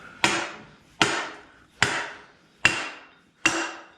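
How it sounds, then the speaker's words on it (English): Five evenly spaced hammer taps on a metal part during a Toyota 7.5 IFS differential rebuild with a Spartan locker, sharp and close, each ringing briefly before fading. No one speaks. "Just a tap of the hammer"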